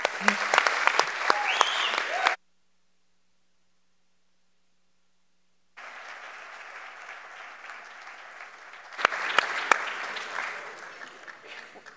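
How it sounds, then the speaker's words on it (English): An audience at a youth event claps for young people in bursts, broken by a few seconds of silence, then fainter scattered clapping that swells again into louder applause. "let's clap for the young people here and around the world"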